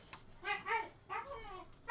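Puppy dogs in a fantasy raid game give three or four short, close whining yelps in quick succession, clear and fairly loud, ending on a sharper burst.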